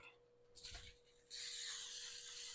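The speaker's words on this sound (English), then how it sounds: "Just spray that down." A short rustle is followed by a steady, loud hiss of aerosol cooking spray lasting over a second, close by, with no talking.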